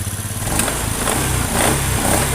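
A fuel-injected Honda Beat motorcycle that sputters and cuts out under throttle is started and left running, a close, steady engine chug with slight uneven pulses.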